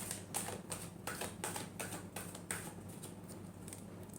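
A deck of tarot cards is shuffled close by, giving soft, quick flicking and riffling taps in an uneven rhythm, quiet and without speech.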